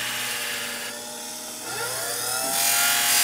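Small sharpening machine grinding the convex edge of a Bonika shear, freehand: a steady high whirring grind with harmonic tones that shift and rise as contact changes, close and continuous, growing louder toward the end.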